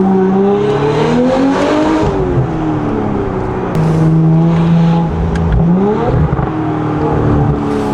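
Audi S5 fitted with a Valvetronic Designs valved sport exhaust and downpipe accelerating under light throttle, a steady loud engine drone with rising and falling harmonics as revs climb and shift, close and continuous with no talk.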